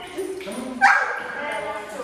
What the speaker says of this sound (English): I'm just gonna try to get the puppies out.